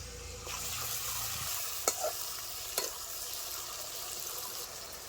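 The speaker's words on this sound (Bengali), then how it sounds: "পেঁয়াজটা ভাজা ভাজা হয়ে আসছে, দিয়ে দিচ্ছি বাটা মশলা, আদা, রসুন, কাঁচা লঙ্কা, পেঁয়াজ কুচি একসাথে বাটা দিয়ে দিচ্ছি" Onions frying with a ground paste of ginger, garlic and green chili for mutton curry: a continuous close sizzle with a couple of sharp utensil knocks against the pan partway through, no voices.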